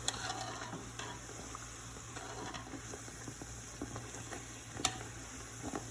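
Devil bread dough frying in hot oil while being turned with chopsticks, a quiet steady sizzle with faint bubbling and a few soft clicks, no talk.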